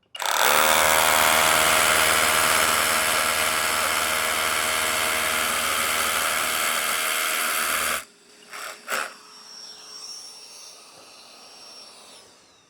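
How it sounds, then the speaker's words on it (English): A Bosch GBH 18V-22 X cordless rotary hammer with GDE dust suction drills loudly and steadily for about eight seconds, then cuts off, leaving a few clicks, bumps and faint handling noise. "So we start drilling."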